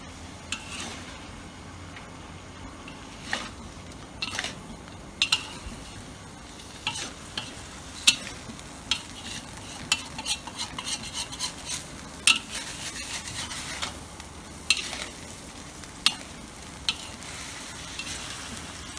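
Spicy pork neck stir-frying in a pan, a steady soft sizzle broken by repeated sharp scrapes and clinks of a utensil against the pan, close and with no talking.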